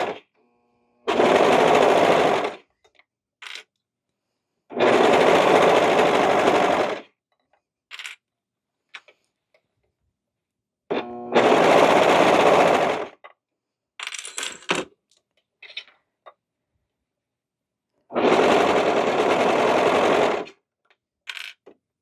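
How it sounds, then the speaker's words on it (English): A serger sewing machine stitching a cardigan runs in four loud, close bursts of rapid buzzing, each lasting about two seconds, with quiet gaps and small clicks and fabric handling in between. "go over with the serger"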